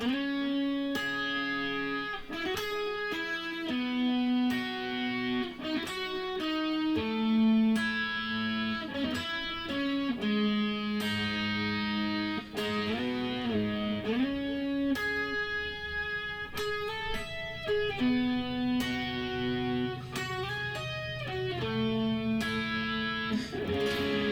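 An electric guitar with light distortion plays an embellished second-verse part of a song, a busy melodic line with bends and quick fills, strummed chords mixed in, continuous for over twenty seconds.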